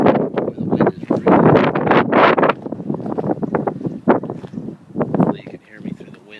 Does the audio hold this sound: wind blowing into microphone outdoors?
yes